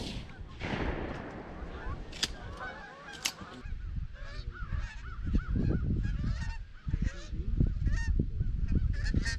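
Geese honk repeatedly as they circle overhead during an early-season goose hunt in New York, the calls scattered and overlapping, with thumps and rustling from the blind and low voices underneath.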